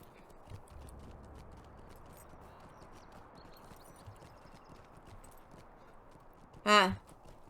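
Hooves of a horse clip-clop steadily in the fantasy game The Lord of the Rings Online, soft and continuous, with a loud brief horse whinny near the end.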